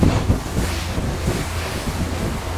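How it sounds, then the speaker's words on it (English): Ocean waves of three feet or more slap against a 42-foot boat running at about 20 knots offshore near Miami, a loud continuous wash of water and rushing wind with no talk. "We've got minimum 3-foot waves"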